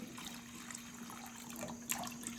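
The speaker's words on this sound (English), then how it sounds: "So this is just water from the tap." Tap water runs steadily into a pot of eggs set in a rice cooker, a soft continuous splashing trickle with a brief brighter splash near the end, fairly quiet.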